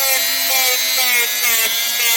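Dry sandpaper rubbed over vintage turquoise jewelry to remove scratches, making a steady, continuous abrasive scratching that stays close and fairly loud throughout.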